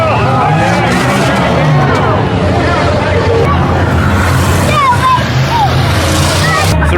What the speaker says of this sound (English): right now, the rear-wheel drive class is racing